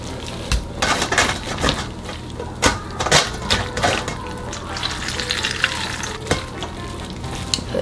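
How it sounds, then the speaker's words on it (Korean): Hands squeeze water out of blanched lettuce, making close, wet squelching and dripping with a few soft clicks of a bowl, irregular and moderately loud, no voices. "데친 상추를 손으로 물기를 좀 꼭 짜주세요."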